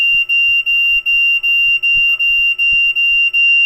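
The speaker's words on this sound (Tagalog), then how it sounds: "mabilis yung beep niya hanggang sa humihina" An earthquake alarm device beeps rapidly and loudly in a steady, even rhythm of short electronic tones, about three per second, close by with faint background knocks.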